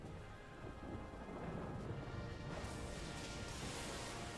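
Crackling thunder and rain-like rumble from the Insane Bolt storm spell in the video game Wizard101, a steady loud roar lasting several seconds with a brighter crash surge partway through, no talking.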